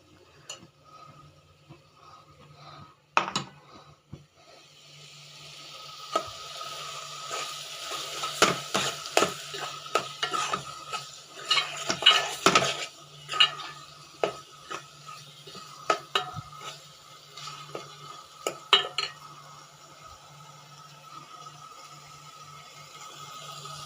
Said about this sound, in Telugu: మనం మిక్సీ పట్టుకున్నది మసాలా పేస్ట్ కూడా వేసేసుకోవాలి